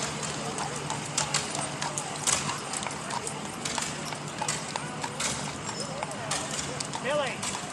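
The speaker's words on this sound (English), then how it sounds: "Beautiful horse coming down the carriage this morning." Horse hooves clip-clop steadily on the road as a horse draws a carriage in a veterans celebration parade, amid crowd chatter, voices talking nearby and outdoor bustle.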